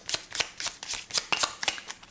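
Tarot cards being shuffled by hand, a rapid series of crisp riffling flicks and soft slaps in an uneven rhythm, close and fairly quiet, with no talking.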